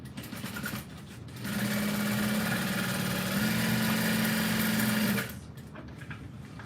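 A sewing machine stitches the bottom of a tote bag, a steady mechanical whirr running for several seconds at close range, then stopping, with no talking.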